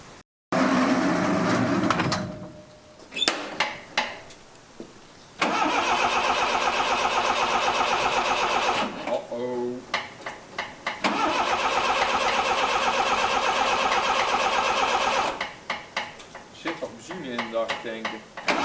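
A truck engine in a yard cranks and runs in several bursts, a loud close mechanical drone broken by short gaps, with clanking and faint voices between the runs.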